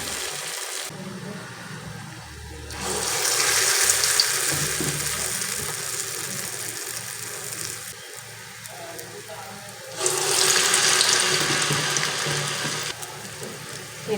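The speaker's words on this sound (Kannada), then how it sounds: "ಈ ಥರ 2 ಕಡೆ ಗೋಲ್ಡನ್ ಕಲರ್ ಬರೋ ಗಂಟ ಚೆನ್ನಾಗಿ ಫ್ರೈ ಮಾಡ್ಕೊಳ್ಳಿ" Medu vada (urad dal fritters) frying in hot oil, a continuous bubbling sizzle that swells louder in two long surges, with faint kitchen clatter underneath.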